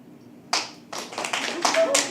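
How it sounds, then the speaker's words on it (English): An audience at a live poetry open mic breaks into clapping, starting sparse and quickly building into dense, loud applause. The cheering is mixed in, with a host's voice audible at the start. "Give me a cheer."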